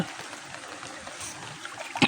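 Floodwater from a typhoon flows and splashes around people wading through a flooded street, a continuous broad rushing wash with no talk.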